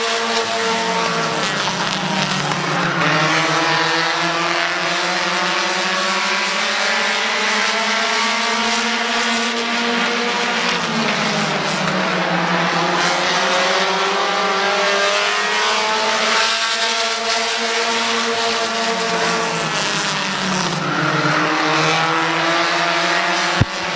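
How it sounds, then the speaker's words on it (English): Race cars roar around a dirt speedway oval during a short-track feature, engines droning loud and continuous with rising and falling pitch as the pack passes through the turns; no talk is heard. "John Heidi trying to take the race lead. Into turn number 3"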